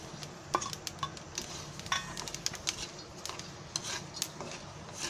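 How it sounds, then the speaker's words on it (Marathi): Onion pieces roasting with spices in a pan for an oil-free cauliflower tava bhaji give a quiet, steady sizzle, with sharp clinks and scrapes as a utensil stirs against the metal. No one speaks. "हे कांदा भाजला आहे ना, हे तुकडे केले आहे, हे आता त्याच्यामध्ये भाजायला टाकते"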